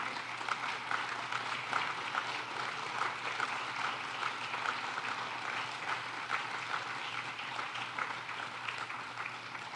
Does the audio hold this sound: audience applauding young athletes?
yes